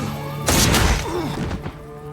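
A single heavy gunshot goes off in a tense film standoff between a man and police, a loud booming thud that rings out over a low musical drone.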